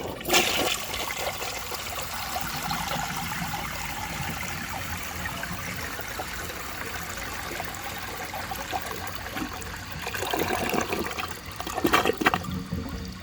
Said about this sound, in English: That flush is super fast and powerful, and I actually really like it.